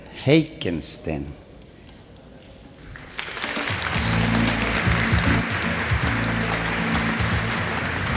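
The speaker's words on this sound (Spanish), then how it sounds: "vamos a pedirles un aplauso de nuevo para el doctor Lars Heikensten." Audience applause at a science conference in a large hall, rising after a brief stretch of speech into a steady, moderately loud wash of clapping that holds to the end.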